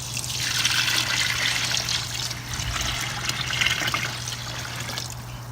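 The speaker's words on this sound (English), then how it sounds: "then to this, you're going to add 3 quarts of warm water" Warm water poured into a pastrami brine of crushed garlic and spices outdoors, a steady splashing, trickling stream, close and continuous with a constant low hum underneath.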